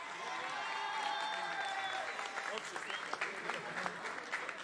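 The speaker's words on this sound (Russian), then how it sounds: "Ваши аплодисменты." Audience applause at a KVN comedy show rising into sustained clapping, with a faint voice or tone at the start and crowd noise mixed in.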